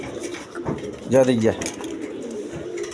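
A pair of black-tailed (kaldom) pigeons coo once in a short burst at close range, with someone speaking over the birds.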